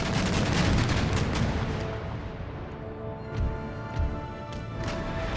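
Sailing-ship cannons firing chain shot in Empire Total War, a loud rumbling barrage at first that thins to distant, scattered booms, with a few separate thuds later on.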